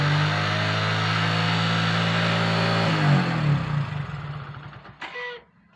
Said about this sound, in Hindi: मैं बाइक को स्टार्ट करके दिखाता हूँ कि किस तरह से इसमें प्रॉब्लम कर रहा है।